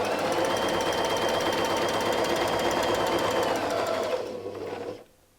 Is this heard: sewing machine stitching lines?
yes